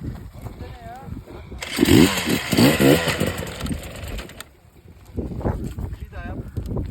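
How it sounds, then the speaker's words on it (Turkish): An enduro motorcycle roars as its engine revs hard on a steep hard-enduro hill climb in Bilecik, Turkey, the rasping engine surging loud and close while people shout and talk over it. "Abi motor çok çekiyor ben tutamıyorum"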